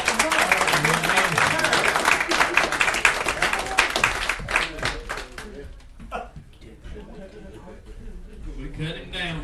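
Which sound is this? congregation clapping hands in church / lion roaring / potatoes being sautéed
congregation clapping hands in church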